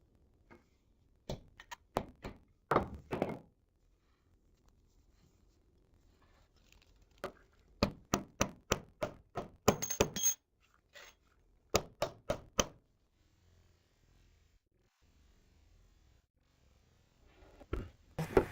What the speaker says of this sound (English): And rivet the piece back into place.